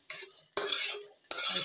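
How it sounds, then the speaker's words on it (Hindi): Food is stirred as it browns in a pressure cooker, with three close, distinct scraping strokes of a spoon against the pot, separated by short pauses, and no talking. "थोड़ा इसको सेकूंगी, इसको सेकूंगी, थोड़ी सी ब्राउन हो जाएगी।"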